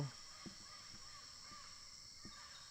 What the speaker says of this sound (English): we are hearing a lot of birds singing